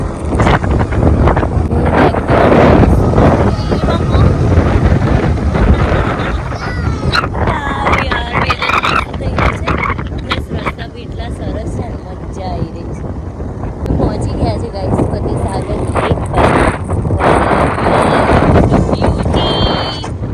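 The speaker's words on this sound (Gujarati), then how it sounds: "એટલો ઠંડો ઠંડો પવન આવી રહ્યો" Cold wind blows hard and steadily across an outdoor setting near horses, with loud, rough buffeting and microphone rumble throughout, while voices talk faintly beneath the gusts.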